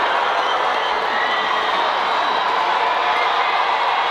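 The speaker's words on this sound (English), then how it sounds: "The crowd goes nuts." A large crowd cheers loudly with a dense, steady roar of voices that holds at full strength throughout, with no single voice standing out.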